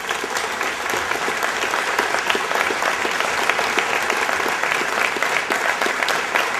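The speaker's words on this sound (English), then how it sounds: "Let's give the candidates a round of applause." An audience at a city mayoral debate claps for the candidates in steady, dense applause that fills the room, moderately loud and without pause.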